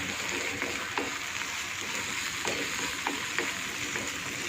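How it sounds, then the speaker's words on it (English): Tomatoes and ajwain sautéing in a hot tawa pan, a steady close sizzle and crackle with occasional sharp pops from stirring, no voices. "I will just saute it well"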